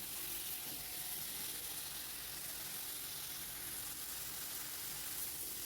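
Soaked cumin powder and spices sauté in a hot pan, giving off a faint, steady sizzling hiss that holds evenly throughout.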